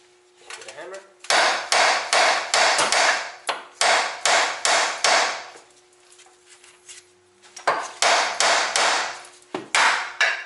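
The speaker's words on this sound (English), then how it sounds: "With a hammer." Hammer striking metal while knocking a tie rod loose on a 1993 CB7 Honda Accord, delivering loud, close, ringing blows in quick bursts of three to five, separated by short pauses.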